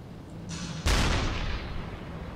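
A flak gun firing at aircraft in the submarine game UBOAT, one sharp heavy boom followed by a long rumbling decay over a steady low background.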